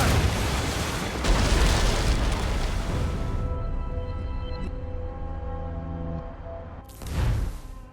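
Ship cannons firing in an Assassin's Creed Rogue naval battle: heavy booming blasts roll together in a loud barrage, then a lingering tonal drone before another sharp blast near the end.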